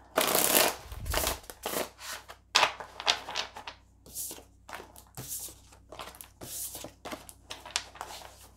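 Steampunk tarot cards being shuffled by hand, a steady run of crisp riffling and slapping bursts, close and clear with no talking over it.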